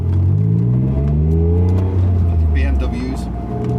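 A Honda NSX engine revs and pulls hard as the car accelerates out of a roundabout on a public road, loud and close throughout, with someone talking over it.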